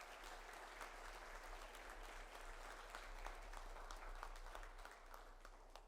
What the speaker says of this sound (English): a big round of applause for Miss Elizabeth Gray